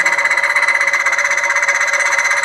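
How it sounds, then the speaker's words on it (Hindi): A friction testing machine grinds two metal surfaces under load, lubricated with a layer of engine oil, giving a steady, loud, continuous whine with a fast pulsing rhythm and no talk. "आप सुन सकते हैं फ्रिक्शन के साउंड।"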